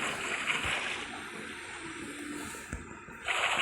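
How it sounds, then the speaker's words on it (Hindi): Water placed in the blocky game world Minecraft while building a witch farm gives a soft, continuous rushing and splashing wash, faint and steady, with a light splash near the end. "अब गाइस चारों तरफ इस तरह से पानी फिल कर दीजिएगा"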